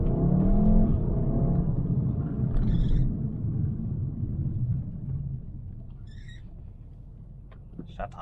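A VW Golf 7 R hums and rumbles as it drives, a low engine and road drone that fades gradually, with brief chirpy high sounds over it.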